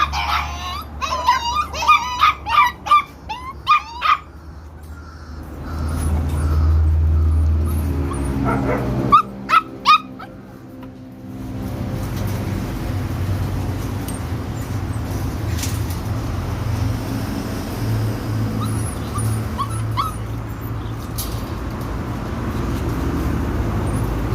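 A large household pack of forty pet dogs and puppies barks in loud bursts, then whimpers, howls and yips at a lower level, a busy outdoor chorus lasting the whole stretch.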